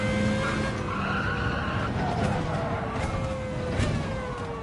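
Tyres on a Renault Espace F1 skid and squeal through heavy understeer in Gran Turismo 7 at Yas Marina, a continuous high scrub over a steady engine drone that stays loud across the whole stretch.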